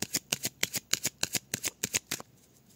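A deck of tarot cards being cut and shuffled close by, a quick run of about a dozen crisp riffling snaps in steady rhythm before it quiets.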